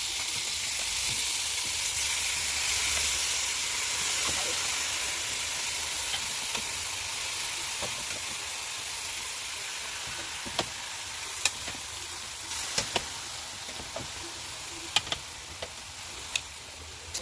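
Pork pieces fry in a pan for adobo with a broad, close hissing sizzle, later joined by scattered sharp clicks and taps of stirring and pan contact, no talking.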